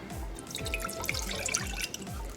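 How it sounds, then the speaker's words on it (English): A cup of water is poured into a pot on a stove set to medium high, giving a soft, continuous trickle and splash with small drips, fairly quiet and with no talking. "We're gonna add a cup of water."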